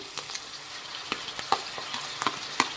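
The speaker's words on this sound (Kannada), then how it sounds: "ಈರುಳ್ಳಿನ ಫ್ರೈ ಮಾಡಿ." Onions frying in a pan for a spicy coriander chicken dish, a steady soft sizzle broken by scattered crackles and pops, close up with no talking.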